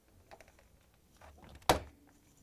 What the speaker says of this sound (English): At this point we're going to close the door.